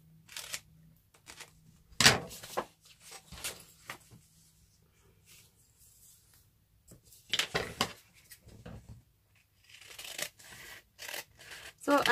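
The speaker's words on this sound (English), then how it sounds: "Just sit back and listen to the paper being cut." Scissors cutting paper pages for a handmade journal, heard as scattered close snips and crisp slicing bursts spread across the stretch with quiet gaps between, plus faint rustling of the sheets.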